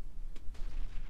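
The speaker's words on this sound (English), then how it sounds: "That's the mortar." A mortar fires in the mech combat game Roguetech, a BattleTech mod: two sharp, booming blasts a fraction of a second apart over a steady low battle rumble, with no voices.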